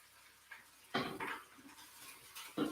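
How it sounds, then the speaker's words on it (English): Onions are dropped into a metal cooking pot, producing several soft, scattered clunks and clatters of pot and utensil against a quiet background. "Let me go put these onions in."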